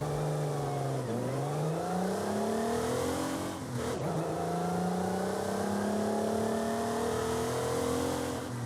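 A Mitsubishi Montero Evolution in Forza Horizon 5 revs up through its gears, the engine note climbing, dropping at a shift, then climbing again in a loud, continuous drone with no talking.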